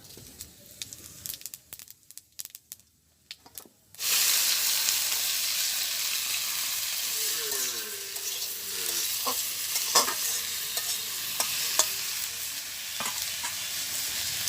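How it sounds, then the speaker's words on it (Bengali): Whole cumin seeds dropped into hot oil in a wok burst into loud, steady sizzling that fills the space after a few seconds of quieter scraping, with occasional utensil clinks over the continuous hiss. "তো কড়াইতে তেল আছে, আমি আর তেল দেবো না। এখন এর মধ্যে দিয়ে দেবো কয়েকটা গোটা জিরা।"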